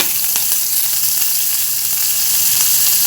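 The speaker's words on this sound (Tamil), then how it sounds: "எண்ணெய் காஞ்சோடனே கடுகு உளுத்தப்பருப்பு, கடுகு உளுத்தப்பருப்பு பொரிஞ்சோடனே பச்சை மிளகாய் போட்டுக்கலாம்." Mustard seeds, urad dal and green chili frying in hot oil, a steady loud sizzle with crackling pops, continuous and alone.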